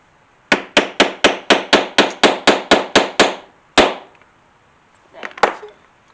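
A tool struck repeatedly to punch through leather for a Christmas ornament: a steady run of about a dozen sharp, loud whacks, then a single heavier blow after a pause and a couple of fainter knocks near the end.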